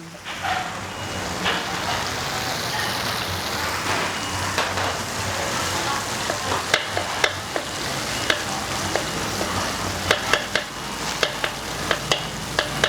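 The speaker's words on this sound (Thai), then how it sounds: "ผัดพอหอมนะคะไฟไม่ต้องแรงมากค่ะ" Vegetarian bean stir-fry with curry paste being stirred over moderate heat, a steady close sizzle with scraping and tapping utensil clicks that grow more frequent, no talking.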